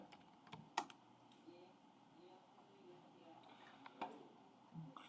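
Faint, sparse keystrokes on a computer keyboard as a username and password are entered, a few isolated clicks over a quiet room background.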